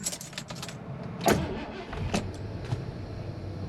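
A 1983 Ford Country Squire woodie wagon with about 143,000 miles cranks and fires up nearby, a brief starter whir and clicks giving way to a steady low engine idle, with no talking.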